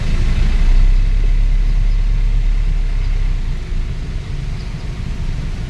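Car engines idle in heavy, jammed traffic, a loud steady low rumble that holds close and constant and then eases slightly, with no voices over it.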